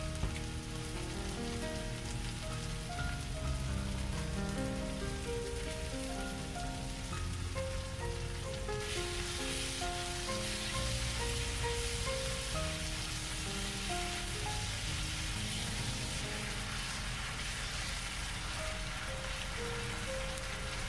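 Pork stir-fries with scallion, ginger, garlic and soybean paste, giving a long, unbroken sizzling hiss at moderate level with soft music running underneath.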